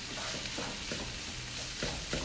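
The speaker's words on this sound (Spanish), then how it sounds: "Voy a ponerle los chiles, que se cocine un minuto o dos más." Meat and chiles fry in a pan with a steady, close sizzle and crackle, while a spoon stirs them in several soft scraping strokes through the short stretch, and no one speaks.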